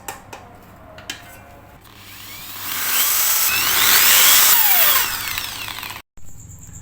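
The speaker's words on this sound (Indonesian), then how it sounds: "Nah, di sini nanti akan saya lubangi." A power drill boring holes into a UPS case, a rising whine that builds into a loud grinding stretch and then cuts off abruptly, preceded by a few faint clicks and taps.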